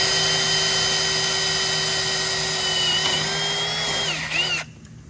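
A steady high-pitched drill whine drilling through a shock shaft and bushing runs continuously, close and loud, dipping in pitch near the end before cutting off.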